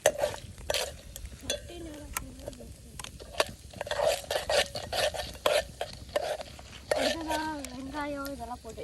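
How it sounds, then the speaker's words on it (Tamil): Mustard seeds and dal sauté in a pan for tomato rice, with repeated scraping stirs and clinks over a light sizzle, while voices, including a child's, speak intermittently nearby. "இப்போ நம்ம நல்லா வணக்கி விட்டுக்கலாம்."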